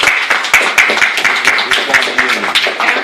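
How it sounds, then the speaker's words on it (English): A live audience at the Lockstars event gives a short round of scattered claps, mixed with voices in the room. "Can I get a round of applause from everyone here at Lockstars?"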